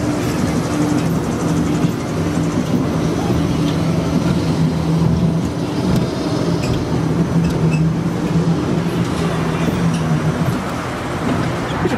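Back-row ride on the Fiesta Express roller coaster: a steady loud rumble of wheels on track with rattling and wind noise, constant throughout without any speech.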